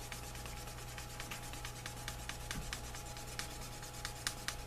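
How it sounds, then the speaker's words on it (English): A tool rubbing along dyed leather edges in a steady series of soft, rhythmic friction strokes, close and quiet, with no talk. "I'll burnish these edges now before it's glued together"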